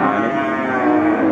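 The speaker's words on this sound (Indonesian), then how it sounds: "ini ada sapi-sapi bakalan" A crowded Central Java cattle market, with young Limousin feeder cattle lowing loudly and continuously nearby and a dense din of the herd beneath.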